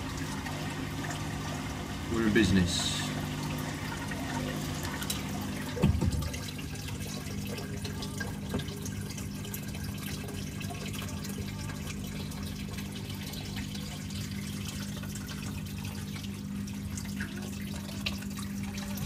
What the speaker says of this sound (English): As soon as you hear that water trickling over